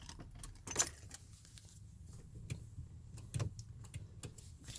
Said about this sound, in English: Yes, I am turning the key.